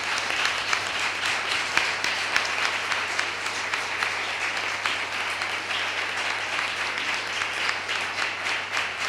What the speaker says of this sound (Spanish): yo pediría un aplauso caluroso por los meses que ha pasado